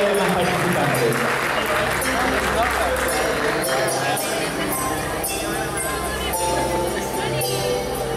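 Audience at a university cosplay contest applauding a prize winner, continuous loud clapping with cheering voices and music mixed in under it.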